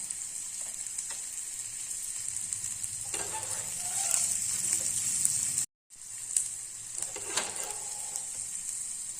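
Chopped onions and curry leaves sauté in a hot pan for a wheat rava adai batter, with a steady close sizzle and occasional scrapes of a stirring spoon, one brief gap, no voices.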